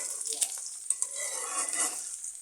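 A fish head fries with onion and garlic for a red amaranth greens dish, a bright continuous sizzle with a few spatula scrapes and taps, close and steady.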